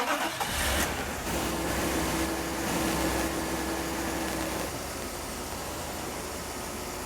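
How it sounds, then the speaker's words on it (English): A 1986–1995 Mercedes car engine runs steadily, a smooth, fairly quiet hum with an even wash of noise throughout and a slight bump at the start. "Okay, now I can shut the engine off."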